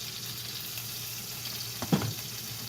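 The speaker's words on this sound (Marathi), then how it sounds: "आता तेल तापलेलं आहे. तर ह्याच्यावर लसूण आणि कोथिंबीरीचे देठ टाकून घ्यायचे" Garlic and coriander stems sizzle in hot oil for a whole masoor dal, a soft steady frying hiss with a short clatter of stirring near the end.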